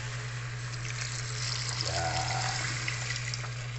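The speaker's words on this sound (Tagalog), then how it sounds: "Tapos lagyan natin ng konting tubig guys." Water is poured into a pan of Filipino pork intestine and blood stew. A soft, steady splash and trickle runs throughout over a constant low kitchen hum, and a voice says a brief word.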